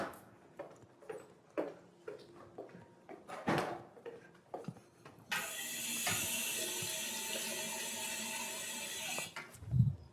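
A sink tap in a chemistry lecture room gushes steadily for about four seconds after a run of clicks, knocks and handling noises, then shuts off with a few clunks close by.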